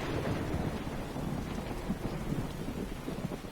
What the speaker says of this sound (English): Surprisingly realistic lightning.